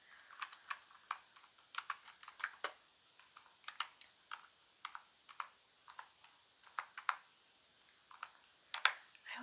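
Keyboard typing for a soft-spoken ASMR session: close, crisp keystrokes in irregular bursts and pauses, some taps sharper than others, heard alone with no talking.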